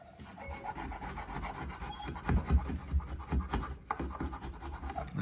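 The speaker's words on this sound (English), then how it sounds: "you take the professional knife and you simply knife it off" Knife blade scraping hardened knotfiller off a wooden surface, a close, continuous rasping that grows in rhythmic strokes, with no one talking.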